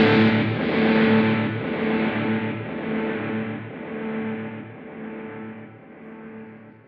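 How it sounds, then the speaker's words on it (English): Electric guitar played through a Kemper Profiler with a serial two-tap delay effect, a repeating riff whose notes echo in steady, even repeats, loud and alone with a slowly fading tail. "The first one is a serial 2-tap delay."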